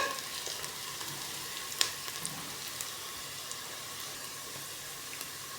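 Squid with carrot and chilli sautés in a pan with a steady, soft sizzle and occasional faint clinks and crackles, heard alone and fairly quiet.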